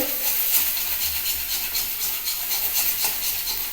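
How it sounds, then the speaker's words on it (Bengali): Fennel seeds fry in hot oil in a pan, giving a steady, dense sizzling hiss with faint rhythmic scraping, close and continuous. "এখান থেকে আমি একটু কষিয়ে নিচ্ছি যাতে মৌরি থেকে কোনো কাজা গন্ধ না বেরোয়"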